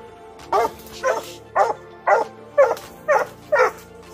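A five-month-old English hunting dog barks at night, giving seven evenly spaced, loud barks at a steady rhythm close by.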